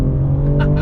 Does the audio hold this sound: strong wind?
no